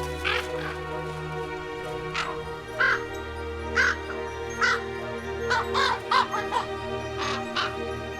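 A crow caws repeatedly by a riverbank in the wild, with a series of harsh, nasal calls spaced irregularly over a low rumbling background and no voices.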